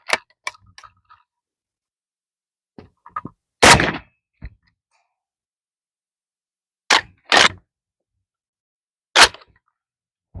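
Suppressed PSA AKP rifle firing single shots, roughly six sharp reports spaced a second or more apart, each a short loud crack, with small clicks and handling noises in between and quiet gaps.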